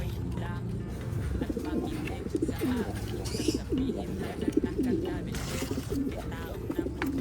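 Pigeons cooing in a dim loft, soft repeated low coos close by, with someone talking over them and some handling noise.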